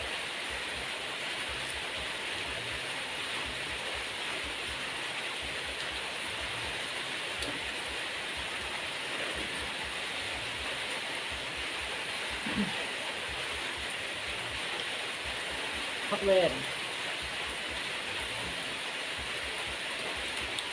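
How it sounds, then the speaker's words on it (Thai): Steady rain hisses evenly throughout, a broad continuous wash of sound with a couple of faint knocks and rustles near the end. "ฝนตก"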